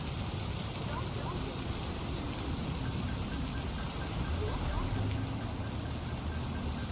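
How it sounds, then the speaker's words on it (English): Heavy rain pours in a steady, dense hiss that stays loud and continuous throughout, with no voices. "The rain started to fall harder as his hands were still tightly grabbing onto my face."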